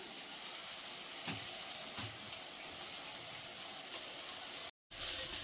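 Chili powder fries in a pan with a soft, steady sizzle and a few faint scraping taps, quiet and close, with a brief gap of silence near the end.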